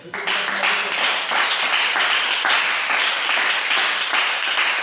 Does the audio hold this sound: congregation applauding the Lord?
yes